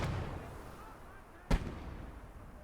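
A single artillery or mortar blast in a Normandy street-fighting war video game lands as one sharp boom at mid-distance, standing out briefly above a steady low battlefield rumble.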